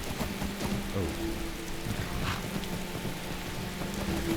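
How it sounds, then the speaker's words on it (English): Steady rain falls in the video game Skyrim, a dense, even hiss of raindrops with a low rumbling undertone, continuous and moderately loud for the whole stretch, with no talking. "Rain, rain, rain. Take all the snow away."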